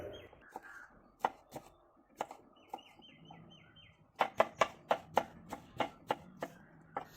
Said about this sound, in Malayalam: ബാക്കി ഹാഫ് നമുക്ക് ചെറുതായിട്ട് ചോപ്പ് ചെയ്തെടുക്കാം